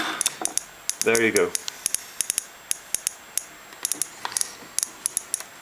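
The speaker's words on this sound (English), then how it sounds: "you can hear the Geiger counter clicking already more furiously" A military Geiger counter clicks near a piece of thorium ore, giving a stream of sharp, irregular ticks at an uneven pace, with a short spoken remark partway through.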